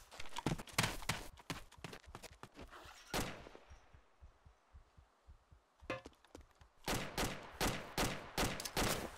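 Rapid bursts of video game gunfire crack loudly and close, a volley at the start, a lull with faint distant pops, then renewed sustained automatic fire.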